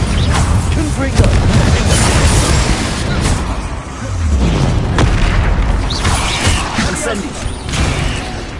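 A Confringo blast spell erupts during Hogwarts Legacy combat against trolls, a loud booming burst over a dense, rumbling fight mix, with a shouting voice and other spell effects around it.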